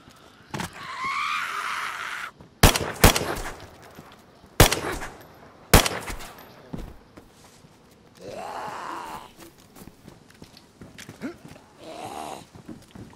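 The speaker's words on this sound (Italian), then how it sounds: "Adesso sparo qualche zombie in testa." Several sharp, loud gunshots crack out in separate bursts, with groaning and snarling zombie noises between them and a low background hum, in the video game DayZ.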